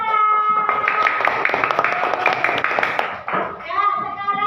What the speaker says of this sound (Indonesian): Tepuk tangan untuk Laras.